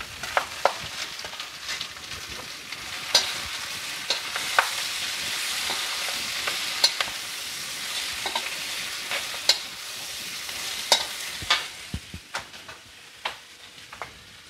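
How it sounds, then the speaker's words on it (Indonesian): Vegetables and seasoning stir-fry in a hot pan for old-style fried rice noodles (bihun goreng). A continuous sizzle is broken by repeated clinks and scrapes of the spatula against the pan, and no one speaks. "Setelah bumbunya harum, mateng, kita masukkan sayur."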